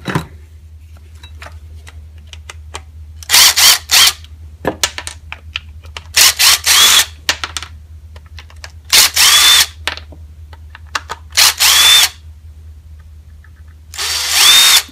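A power driver spins out T20 Torx bolts from the casing of a DeWalt DW402 4-1/2 inch angle grinder. Repeated loud whirring bursts of one to two seconds are separated by quiet gaps and small clicks and rattles of the screws.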